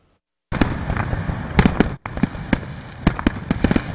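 Loud fireworks booming in close succession, a dense string of sharp bursts and crackles from Fourth of July celebrations with a brief gap midway.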